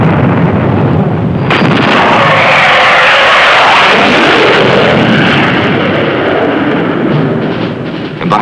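Loud, continuous barrage of gunfire and heavy explosions during a U.S. Marine Corps dawn beach landing, a dense roar of artillery bursts and rumbling blasts close by, with no talk over it.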